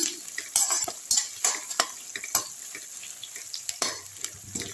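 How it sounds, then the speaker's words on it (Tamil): Green chillies and curry leaves sauté in hot oil, giving a steady sizzle broken by repeated scrapes and clinks of a spatula stirring the pan, close and fairly loud, with no talking. "நான் மூணு பச்சை மிளகா போட்டுருக்கேங்க நல்லா வதக்கி விட்டுருங்க கொஞ்சம் கருவேப்பிலை போட்டுக்கலாம் எல்லாத்தையும் நல்லா வதக்கி விட்டுருங்க"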